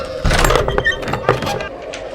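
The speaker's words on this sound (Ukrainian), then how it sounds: "О, відчинились двері." A door creaking open in a Minecraft horror map, a short rough scraping sound with a couple of thuds, fairly close and loud, no talking.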